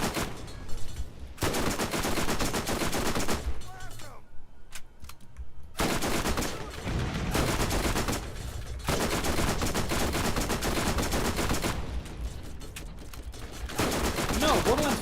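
Rapid bursts of automatic turret gunfire from the video game Borderlands, loud and sustained, broken by brief pauses between volleys.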